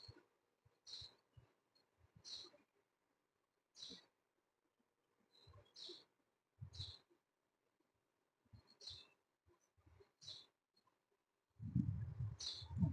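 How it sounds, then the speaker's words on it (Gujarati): Birds chirping outdoors during a calm morning yoga session, with short high calls repeating every second or two, faint and fairly distant, over quiet low thumps and rustles. "આજુબાજુમાં ત્રણતા પક્ષીઓનો અવાજ સાંભળવાની કોશિશ અને મનને શાંત કરો."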